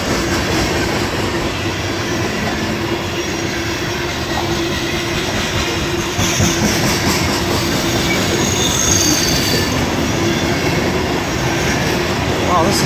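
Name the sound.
long CSX freight train passing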